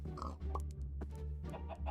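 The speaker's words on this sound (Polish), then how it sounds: "tutaj mamy świnie, kurczaki" Farmyard pigs oinking and grunting alongside clucking chickens, steady close animal noise filling the whole stretch with repeated short calls over a low rumble.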